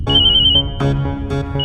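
A mobile phone ringtone plays close by in a house, three bright electronic rings in quick succession, with a sustained high tone and a fourth ring starting at the end.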